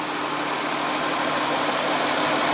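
A 2015 Dodge Journey with a 3.6 L V6 engine idles in a steady, even hum that stays constant and close, with no voices over it.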